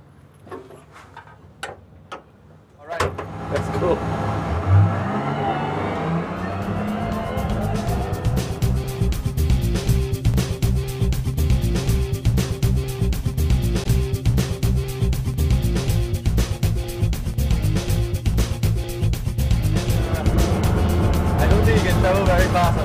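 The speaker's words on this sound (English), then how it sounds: "I'm going to get into the Trailblazer for a joyride." A Trailblazer military vehicle starts and drives off, a steady loud engine drone with rhythmic ticking and clattering that continues throughout, following a few sharp knocks at the start.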